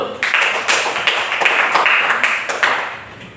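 A classroom of students claps together in short, uneven bursts of hand claps, close and fairly loud, with sharp individual slaps standing out before fading near the end.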